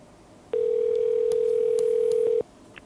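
A telephone dial tone after a call is hung up: one steady, loud tone that holds for about two seconds against a quiet line, then cuts off abruptly.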